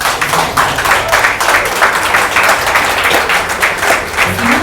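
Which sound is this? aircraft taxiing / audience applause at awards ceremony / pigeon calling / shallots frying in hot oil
audience applause at awards ceremony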